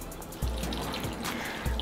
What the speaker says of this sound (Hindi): और इसमें भी पानी ऐड कर देते हैं।